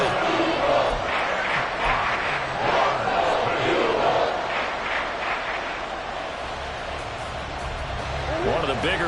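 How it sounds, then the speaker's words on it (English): Crowd noise from a Madden football video game builds ahead of a big third down, a steady loud stadium roar with cheering throughout, mixed with game sounds. "the crowd getting into it as we come up on a big 3rd down"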